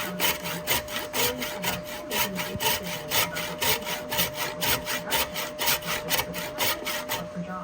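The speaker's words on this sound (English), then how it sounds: "you can hear the saw clicking as it hits the screws that are through the faceplate" Rhythmic sawing strokes through a resin and apple wood turning blank repeat quickly and evenly, each pass carrying a sharp tick as the blade catches on screws through a lathe faceplate.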